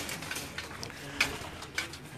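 Kasuri pigeons coo softly in a fancier's loft at a home in Bahria Town Phase 8, Islamabad, with low murmuring calls and a couple of brief sharper notes over a steady background hum.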